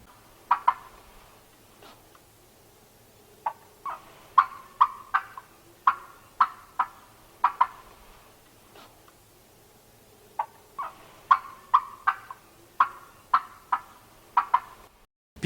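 Wild turkey tree calls: soft, clucking yelps delivered in quick bursts of several notes, with pauses between groups, fairly close and clear over a quiet background.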